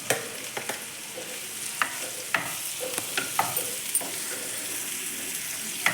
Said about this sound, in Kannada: ಮಶ್ರೂಮ್ ಸ್ವಲ್ಪ ಗೋಲ್ಡನ್ ಬ್ರೌನ್ ಕಲರ್ ಆಗಬೇಕು, ಎಣ್ಣೆಲೇ ಫ್ರೈ ಆಗಬೇಕು.